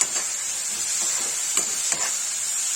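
Masala spices fry in a pan for a vegetable curry of karela and baingan, giving a steady bright sizzle with a few soft stirring scrapes, close and fairly loud, with no voices.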